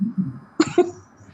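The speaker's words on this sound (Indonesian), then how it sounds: "Kenapa batuk?" A single sharp cough, close and clear, followed quickly by a second shorter cough, with quiet room noise around them.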